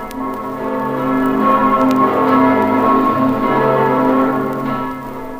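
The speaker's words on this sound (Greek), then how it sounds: "ένας παράξενος ήχος που έμοιαζε σαν να χτυπούσε η καμπάνα μιας πολύ μακρινής εκκλησίας." A distant church bell rings with a sustained, humming tone that swells and fades slowly, heard on its own without voices.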